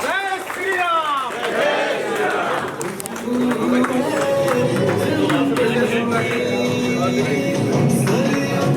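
Large crowd at a political campaign rally in Mumbai responding loudly, with cheering, shouting and some clapping forming a dense, continuous roar; an amplified voice speaks over it early on.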